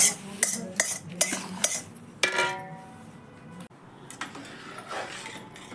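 A spoon scrapes and clinks against a metal pan while roasted ground fenugreek flour is stirred into a laddu mixture, a series of sharp metallic knocks and scrapes followed by softer stirring.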